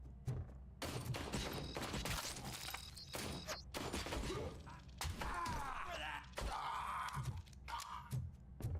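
Rapid bursts of gunfire and shattering impacts from the RoboCop: Rogue City video game, with repeated loud volleys and crashes over several seconds.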